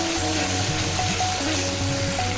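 Tilapia fish with turmeric, chilli powder, salt and cumin sautéing in a pan, a steady close sizzle and fry with faint stirring, no talking.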